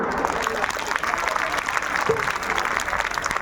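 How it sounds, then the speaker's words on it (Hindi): An audience claps at a Hindi-language event, giving steady, dense applause throughout, with crowd noise and some voices mixed in. "अगर हुआ तो तालियां बजाइए ना"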